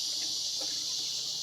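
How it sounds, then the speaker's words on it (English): Cicadas drone in a dense, continuous, high-pitched buzz on a warm summer night around 80 degrees, steady and fairly close, with no other sounds. "As you can hear, I got some cicadas hollering."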